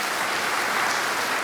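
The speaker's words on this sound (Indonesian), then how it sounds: "Tepuk tangan untuk Tuhan Yesus." Church congregation applauding in praise of Jesus during a worship service, a steady dense wash of many hands clapping at even loudness for the whole stretch.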